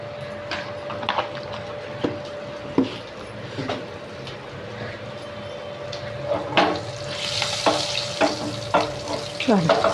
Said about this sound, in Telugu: ఇదన్నీ వేయించిన ఇది దోసకాయలు, టమాటాలు, పచ్చిమిరకాయలు వేయించిన దాంట్లోనే తిరమాది పెట్టుకుంటున్నాను అన్నమాట. ఇప్పుడు తిరమాది పెడుతున్నాను చూడండి.